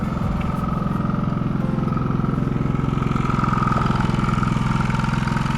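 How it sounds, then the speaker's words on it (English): An inverter generator hums steadily at a constant engine pitch, a smooth, even mechanical drone with a faint higher whine, close and continuous with no talking. "Now this is an inverter generator, so it is pretty dang quiet."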